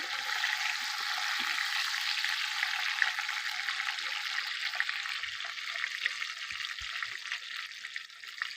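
Eggplant frying in hot oil tempered with radhuni seeds, giving a steady, close sizzle that holds throughout with faint pops and no voices.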